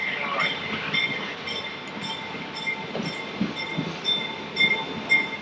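A passenger train rolls along the rails in a continuous rumble, with rhythmic wheel clicks and faint high squeals repeating over the steady noise.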